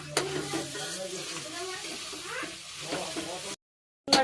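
Cabbage and chana dal curry frying in a pan, heard as a steady close sizzle with stirring scrapes. It runs for several seconds under a woman's speech, then cuts off abruptly.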